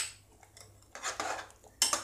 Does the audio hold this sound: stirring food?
yes